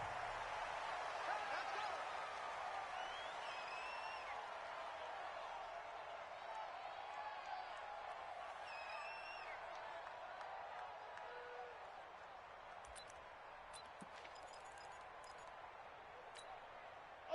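A steady stadium crowd roars throughout in Madden 20 before a Jacksonville Jaguars versus Arizona Cardinals game, a dense, distant wash of cheering with faint whistles and calls, easing slightly toward the end.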